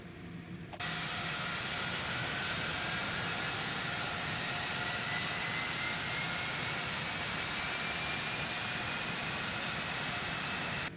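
Left jet engine of a Cessna Citation X starting up in the X-Plane 12 flight simulator: after a brief quiet moment a loud, broad roar kicks in and holds steady, with a faint whine slowly rising through it.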